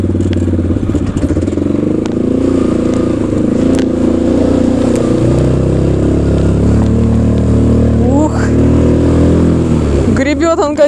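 A Sharmax 650 Force four-wheel-drive ATV driving through mud, its engine droning loudly and close with shifting revs, clattering and scraping, rising into a revving surge near the end; a voice talks over it.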